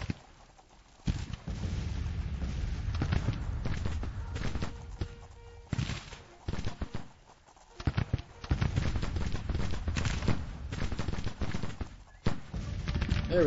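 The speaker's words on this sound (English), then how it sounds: "There's some nice canister shot on the 3rd Brigade." Canister shot artillery fire in the Grand Tactician Civil War strategy game, with distant booms and crackling volleys recurring over a steady rumbling battlefield ambience with hoof-like clatter.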